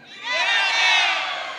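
A festival audience shouts and cheers together, a loud sustained roar of many voices swelling and holding steady.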